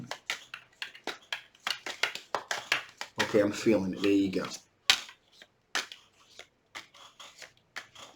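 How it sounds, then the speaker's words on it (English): Rapid papery riffling of tarot cards being shuffled, a short burst in the middle, with a person talking before and after. "One more shuffle, guys."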